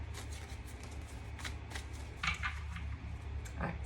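A deck of tarot cards being shuffled close by, a steady run of soft papery riffles and slaps with a few sharper bursts, set over a low constant hum with no talking.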